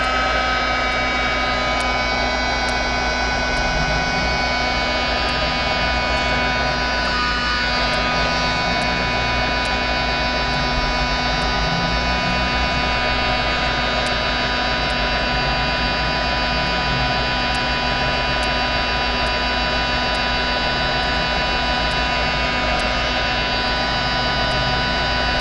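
A heat tool heat-setting a craft design gives a loud, steady whirring hum that runs unbroken throughout.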